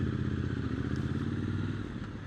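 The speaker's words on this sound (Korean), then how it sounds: "배기음이 제일 컸고요" A Triumph Scrambler 1200XC motorcycle fitted with an Arrow exhaust rumbles with a deep, loud, steady engine burble at close range, a continuous low throb with no voices over it.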